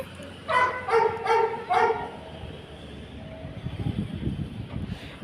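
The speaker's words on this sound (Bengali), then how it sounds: "আর ওদের কুকুরটা বাঁধা থাকলেই চাঁচায়" A dog kept tied up barks in a quick burst of about four yelps at close range, followed by low rumbling background noise with no talking.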